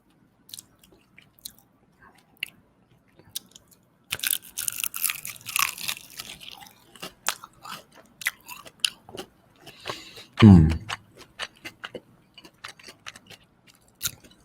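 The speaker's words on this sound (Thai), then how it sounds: "คือกรอบมากครับ" Crispy, crunchy food chewed up close into a microphone in a live ASMR eating session: sharp bites and crackly crunches come in dense irregular bursts, one loud crunch standing out, between quiet pauses, with no voices.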